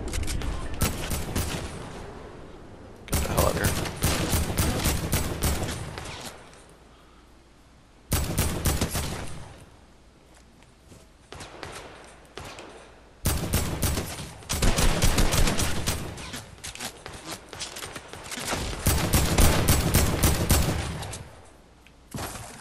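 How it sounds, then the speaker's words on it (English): Bursts of rapid gunfire from a Fortnite Battle Royale match, loud and close, coming in long clustered volleys separated by short quieter gaps, with no talking. "Of course, somebody's shooting at me already."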